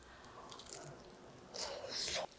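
Crispy grilled mackerel is bitten and chewed close to the mic, a few soft crunches and moist squishes in quick succession against a quiet room.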